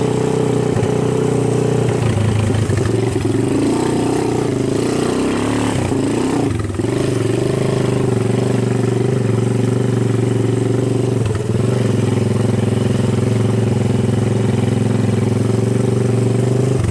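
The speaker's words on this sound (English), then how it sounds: "You guys like the sound of that exhaust?" A rat rod Honda ATC200 three-wheeler idles loudly and close by through its exhaust, a steady rumble broken by a couple of throttle blips and revs partway through, with no talking.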